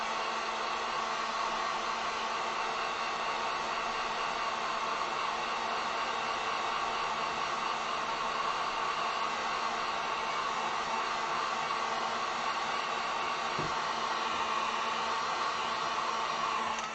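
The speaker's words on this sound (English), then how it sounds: "I'm going to go ahead and hit with the heat gun real quick." A heat gun blows hot air to dry acrylic paint on a sign, making a steady, even whooshing hiss at moderate volume that runs without a break throughout, with no talking.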